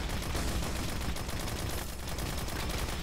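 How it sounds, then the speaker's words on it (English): Rapid gunfire in the Destiny video game, a dense continuous burst of automatic shots, close and steady throughout the short stretch. "Keep firing at you."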